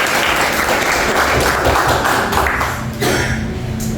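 Congregation applauding inside a church service, a dense, steady wash of clapping that fills the room and dips briefly near the end before resuming.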